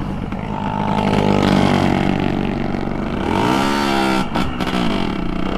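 A motorcycle with no side mirrors, ridden on a test drive, its engine droning loud and close with rising and falling revs throughout, briefly easing off near the end.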